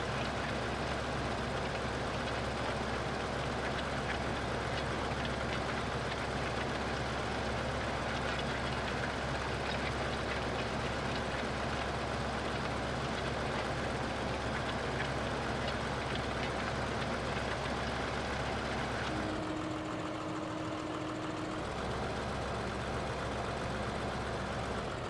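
A tractor engine drones while cultivating a field in Farming Simulator 15, a steady low mechanical hum that runs unbroken, dipping briefly to a different tone near the end.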